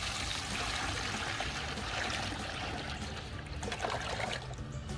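About 1.5 gallons of water pour steadily into a bait cooler, a continuous close rushing splash that holds at even loudness throughout with no talking.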